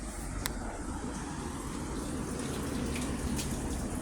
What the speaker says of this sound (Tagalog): Nagpupuno tayo, nagpupunan tayo ng tubig.